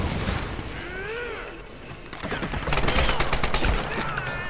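Rapid bursts of gunfire from a Tomb Raider fight, dense and continuous, growing louder and heavier toward the end over a busy mix of game sound.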